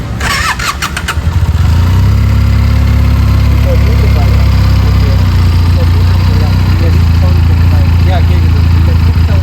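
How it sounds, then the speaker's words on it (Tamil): Benelli TNT 300 inline two-cylinder motorcycle engine firing up with a short burst of cranking, then settling into a loud, steady idle that holds close by throughout. "இந்த வண்டிக்கு வந்து ஒரு ஸ்பெசிபிக்கான இன்ஜின் நாய்ஸ் என்னன்னு பாத்தீங்கன்னா உங்களுக்கு காமிக்கிறோம் பாருங்க."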